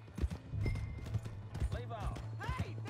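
A horse in the game Red Dead Redemption 2 clops along in quick, close hoofbeats with a brief high whinny, mixed under overlapping voices.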